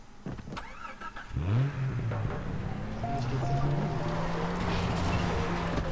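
In the Far Cry 3 video game, a car engine fires up after a few clunks, then holds a steady, rising drone as the vehicle drives off.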